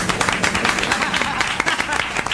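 An audience at a live Punjabi stage show (akhara) claps steadily, with sharp individual claps audible in the mix and faint crowd voices underneath.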